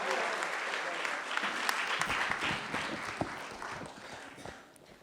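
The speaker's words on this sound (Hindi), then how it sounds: "एक बार जोरदार तालियों के साथ आप कविता का स्वागत" An audience at an Independence Day poetry gathering breaks into applause to welcome a poet, a fairly loud wash of clapping that thins and fades over a few seconds, with some voices mixed in.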